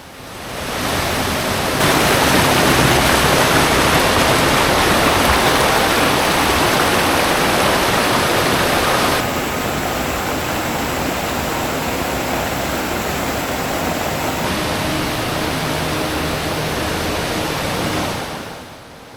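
Meenmutty waterfall in Wayanad roars as a loud, steady broadband rush of falling water, close and continuous, with no voices.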